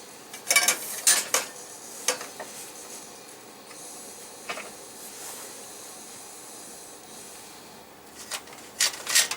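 Metal scraping rasps in short bursts as paint is taken off a part clamped in a vise, with a few quick strokes early, scattered scrapes through the middle and more near the end, faint and close.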